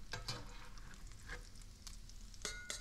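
Bacon pieces fry in a cast iron pan on a stove with a soft, continuous sizzle. A few brief stirring scrapes and pops surface over the crackle.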